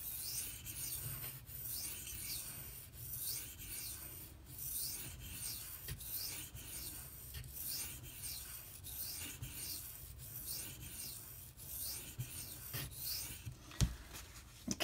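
Blade of s90v steel sharpened on a King whetstone: rhythmic, quiet scraping strokes repeating back and forth about every second, close and alone, with a few sharper clicks near the end.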